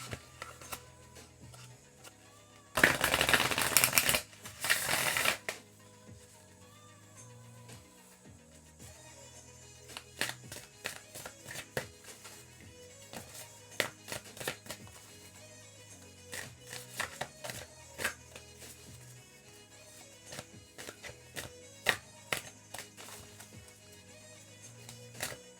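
A deck of love oracle cards being shuffled by hand, opening with a couple of loud riffling bursts followed by many soft, irregular taps and slides of cards over quiet background music.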